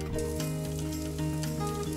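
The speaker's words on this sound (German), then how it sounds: "Dann gebe ich etwas Öl in einer Pfanne." Oil sizzles steadily in a frying pan in a home kitchen, a dense continuous hiss and crackle at close range with no talking over it.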